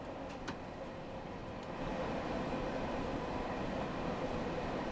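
A freight train rolls across a bridge in Train Sim World 3, a steady low rumble and rattle of wagons that swells slightly louder partway through and holds as a continuous drone.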